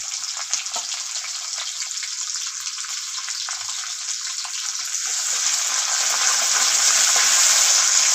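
Garlic and curry leaves sizzle in hot tempering oil for leftover-rice fodanicha bhat, a loud continuous crackling hiss that grows stronger and fuller halfway through.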